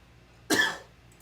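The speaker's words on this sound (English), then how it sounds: "Coughing to the mic." A single close cough into a microphone during Magic: The Gathering commentary, a sharp burst that quickly fades out.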